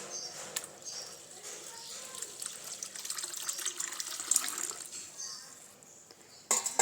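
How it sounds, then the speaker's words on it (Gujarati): Water is poured into a bowl to soak lentils and rice for idli batter, a continuous close splashing trickle that swells and fades, with a brief clatter near the end. "અને પાણી ઉમેરી અને 7 થી 8 કલાક માટે આપણે પલાળવા દઈશું"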